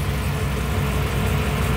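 An LS-swapped Mercedes turbo diesel car idles as its cooling fan switches on, a dense steady engine drone with a broad rushing whir layered on top, close and continuous.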